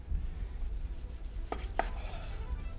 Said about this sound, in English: So I'm gonna find the grain here, and you can see it's running that way, and we're gonna slice against it.